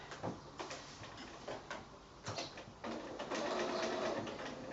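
A sewing machine stitches a seam on a quilt block: scattered handling clicks and taps, then a steady close whirring hum as the machine runs for the last moments.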